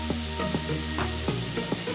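Pumpkin frying in ghee in a pan for sweet pumpkin halwa, a soft steady sizzle with a few stirring scrapes and low hum in the background.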